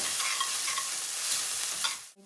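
Ginger-garlic paste sautéing for pav bhaji, a steady close sizzle with soft stirring scrapes that cuts off abruptly near the end, no voices.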